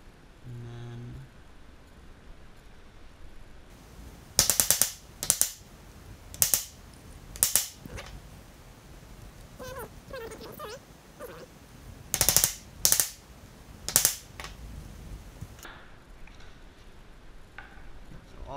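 Sharp hammer strikes drive a pronged punch through leather for a simple wallet's stitching holes, coming in two clusters of roughly four to five loud impacts each, with quiet handling noise between.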